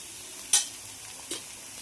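Okra cooks with tomato in a pan while being stirred, giving two short scraping stir sounds close by over a faint sizzle, with quiet gaps between them.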